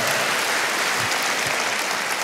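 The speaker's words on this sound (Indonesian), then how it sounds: "Berikan tepuk tangan yang meriah buat Tuhan." Dense, steady applause from a church congregation during a sermon in Solo, loud and continuous throughout with no talk over it.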